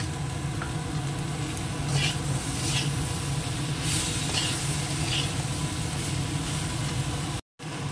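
Ginger paste added to a pan of spices for a Bengali home-cooked dish, a steady continuous sizzle with low hiss running throughout, moderately loud, with faint stirring scrapes and a brief cutout near the end.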